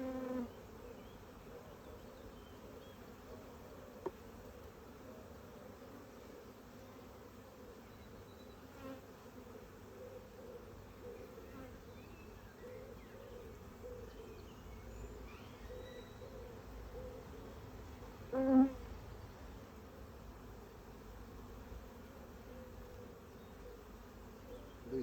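Honeybees drone in a steady, dense hum from an open hive colony of over 100,000 bees during an inspection, close and continuous with a brief louder swell near the end and no speech.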